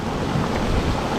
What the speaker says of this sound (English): this is about 7 or 8 minutes of rain so far